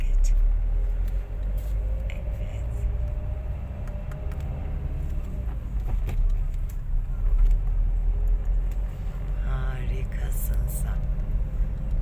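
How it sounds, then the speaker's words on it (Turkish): A manual car on a driving lesson moves through flowing traffic, its low road rumble and engine drone running steadily while people talk quietly inside. "Şu anda bu trafik akıyor ve ben araç kullanıyorum."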